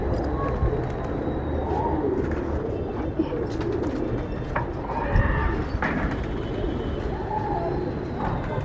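Desi pigeons coo softly in a loft, low murmuring calls scattered through the scene alongside wing flutters and shuffling, with someone talking over them.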